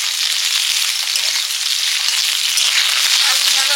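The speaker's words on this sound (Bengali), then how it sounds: "আলু ঢেঁড়স মোটামুটি ভেজে নিয়েছি।" Potatoes and okra frying in a pan, giving a loud, dense, continuous sizzle close up with a faint stirring texture and no talking.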